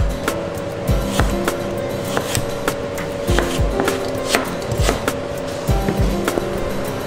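A knife chops through a peeled carrot on a cutting board while bihun goreng is being made, with a steady run of sharp, close knocks at an uneven rhythm and no talk.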